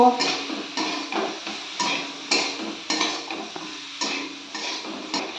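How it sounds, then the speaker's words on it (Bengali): A spoon stirs spices into broccoli curry in a pan, making rhythmic scraping and clattering strokes about twice a second, loud and close, with a faint sizzle between strokes. "এবার এটা সব ভালো করে একটু নেড়ে নেব"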